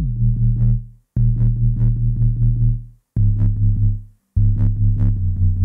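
A deep, smooth sub bass synth holds four long notes in a pulsing pattern, each cut off by a brief silence, clean and loud.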